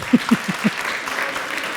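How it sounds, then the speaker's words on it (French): Brief applause from a conference audience at a French-language panel on fighting disinformation, a short patter of clapping with a few low vocal sounds at the start before it thins out. "Donc pour ça vous pourriez l'applaudir."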